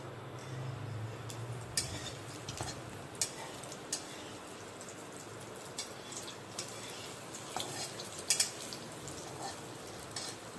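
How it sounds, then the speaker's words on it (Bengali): Small lentil fritters (bora) fry in hot oil with a low, steady crackle, dotted with sharp ticks and clinks of utensils against the pan. "এই দেখো তেলে আমি বড়াগুলোকে ছেড়েছি"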